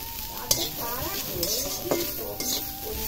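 Egg chowmein stirred and fried in a pan, a steady close sizzle broken by a few sharp scrapes and clinks of the spatula against the metal.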